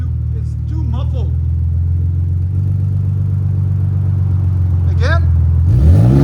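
A Ford Raptor engine fitted with a Borla ProXS exhaust holds a deep, loud, steady rumble close by, swelling slightly at the end, while people talk over it.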